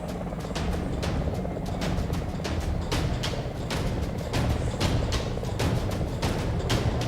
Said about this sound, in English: as soon as you hear the sound of an airplane